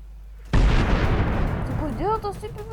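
A sudden heavy cannon blast with a booming, rumbling tail, followed by rising whistling tones as the echo fades.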